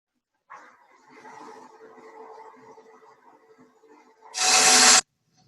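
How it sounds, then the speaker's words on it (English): A gouge cuts a V groove into a wooden platter spinning on a lathe, making a low, fairly quiet rasping scrape for several seconds, then a short, much louder burst of broad hissing noise near the end. "I'm just gonna put a little V groove right up to that line"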